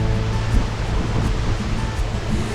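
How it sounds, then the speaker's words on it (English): A waterfall crashes inside a cave on Iceland's south coast, a loud, close and constant roar of falling water with no breaks. "You can hear the roar of the water and feel the mist."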